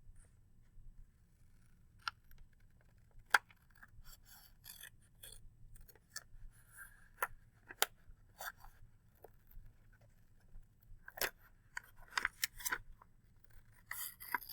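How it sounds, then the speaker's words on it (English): Scissors cut paper around curves in a quiet room, giving a series of crisp, close snips and soft rustles at irregular intervals as the blades and sheet are turned. "I'm turning my scissors as I cut because I've got another round edge."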